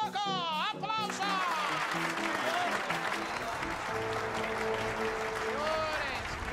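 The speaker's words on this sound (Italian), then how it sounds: "Applauso!" An audience at a circus show claps in sustained, dense applause that fills the whole stretch, with brass-like music playing underneath and a voice heard briefly at the start.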